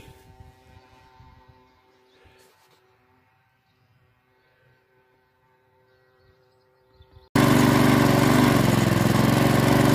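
A Wolf mulching lawn mower has a quiet motor hum at first, then the engine starts abruptly and roars loud and close, running steadily at full power.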